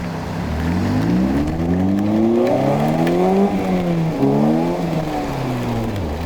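A modded Polaris Slingshot accelerates hard in a street race, its engine climbing through rising gear pulls with a shift drop midway, loud and close with a steady whine of acceleration.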